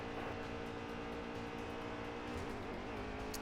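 Race car engines roar in NASCAR Heat 3 at the Monster Mile oval, a loud, continuous dense drone of several stock cars running together, with no voices over it.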